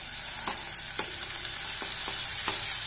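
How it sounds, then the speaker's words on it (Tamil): Onions sautéing in a pan for a prawn Chettinad gravy: an even, moderate frying hiss punctuated by several soft stirring scrapes at regular intervals, with no voices. "வெங்காயம் கொஞ்சம் வதங்கட்டும்."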